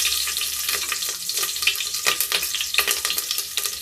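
Green chillies sizzle loudly in hot oil in a pressure cooker for tempering, a close, crackling fry with stirring sounds and no voice.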